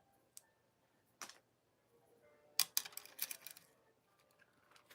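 Memory wire being snipped while making earrings: a few sharp, isolated clicks and snaps, close and quiet, spaced out over a near-silent background.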